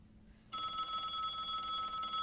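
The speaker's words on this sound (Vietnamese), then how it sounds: "Nghe điện thoại đi." Telephone bell starts ringing abruptly after a brief quiet moment, then a continuous bright electronic trill that carries on steadily, fairly faint overall with no one speaking.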